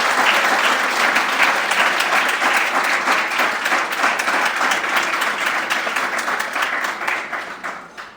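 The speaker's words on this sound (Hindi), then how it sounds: "एक बार जोरदार तालियां बजा दीजिए" A large crowd applauds steadily for several seconds at an International Day of Yoga celebration, the clapping dense and loud before gradually fading out at the end.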